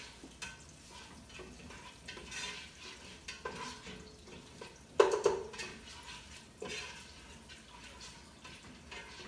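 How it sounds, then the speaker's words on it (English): Stirring in a pot of oil while cooking jollof rice, with soft scraping and clinks from the spoon, a faint underlying sizzle and a sharper clatter midway. "I tend to hold the cover of the pot like this while I stir."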